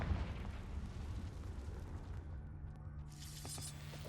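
A Confringo fire spell bursting in a cave in Hogwarts Legacy, a dense rumbling blast that rolls on and slowly thins, followed by a softer crackling tail, with no voices.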